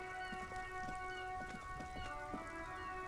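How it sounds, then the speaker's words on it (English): Steady rain patters and drips in the video game Disco Elysium: Final Cut, soft and even over a sustained musical drone, with no voices. "It's raining again."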